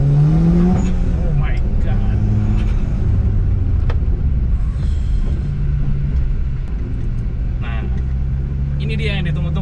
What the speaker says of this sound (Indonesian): Ini dia yang ditunggu-tunggu dari tadi, mesinnya yang akan kita test drive.